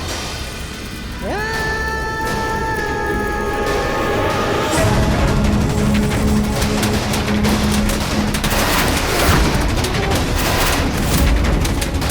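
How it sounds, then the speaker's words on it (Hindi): Rising whistles shoot up, then a long, dense barrage of crackling firecracker bursts pops continuously, loud and close. "पटाखे छोड़ूंगी।"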